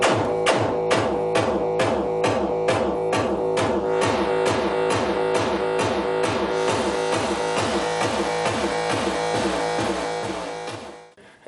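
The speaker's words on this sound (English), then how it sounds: "So this is my favorite bass drum." A deep analog modular synthesizer bass drum pounds in a fast, steady repeating pattern layered with tonal hits, loud and continuous before fading out at the end.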